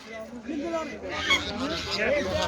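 Turkeys at a poultry market gobble and honk in a dense, overlapping chorus close by, with a voice mixing in now and then.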